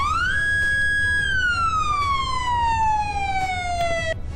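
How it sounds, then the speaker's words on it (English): A fire truck siren in the Roblox game Greenville rises quickly into a single loud wail, holds briefly and then slides slowly downward in pitch, close and clear with no voices. "Here's the first siren."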